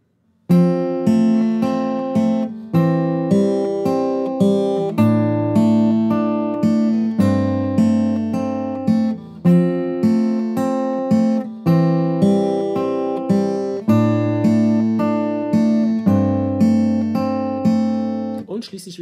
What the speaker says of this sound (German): Dann wieder Fingerstyle, das klingt so.